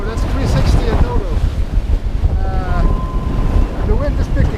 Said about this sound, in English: The wind is picking up, almost 30 knots, and so is the waves again